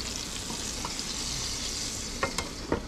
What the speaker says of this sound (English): put a little bit of butter around it so the other side will crisp up